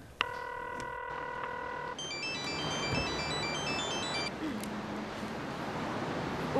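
A phone ringtone plays in a Korean television comedy sketch: a steady melodic tone pattern first, then a brighter repeating sequence of beeps, clear and close over a soft background hiss.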